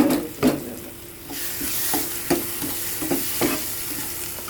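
A tempering of chillies, curry leaves, asafoetida and turmeric fries in hot oil for ridge gourd chutney, giving a steady close sizzle punctuated by a few sharp clinks of a stirring spoon against the pan.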